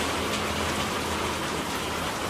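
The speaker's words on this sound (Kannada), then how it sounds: "ಮಳೆ ನೋಡಿ" Heavy rain pours steadily at night on an outdoor spot in Boodagumpa, a dense unbroken hiss filling the whole stretch with no voices or thunder.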